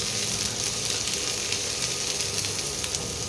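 Sliced eggplant and onion fry together in a pan, an even, moderately quiet sizzling hiss with small crackles, continuous from start to end with no voices.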